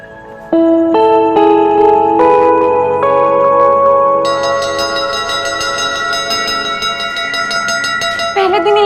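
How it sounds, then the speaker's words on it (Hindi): A temple bell rings repeatedly, loud and close, its struck tones layering into a sustained metallic shimmer that keeps building over several seconds. "10 मिनट से घंटी कौन बजा रहा था मंदिर में?"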